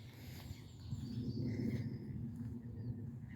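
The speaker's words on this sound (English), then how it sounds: "Just stand and listen for a second to the birds." Birds sing outdoors after storms, with faint scattered chirps over a low hum of wind and distant background noise, quiet and brief.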